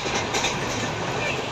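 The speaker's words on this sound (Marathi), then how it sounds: "आत्ता आमची ट्रेन स्टार्ट झालेली आहे" A passenger train pulling out of Kalyan Junction after coming down the Kasara Ghat, a steady rumbling roll with faint rhythmic clatter of wheels, close and continuous with no talk.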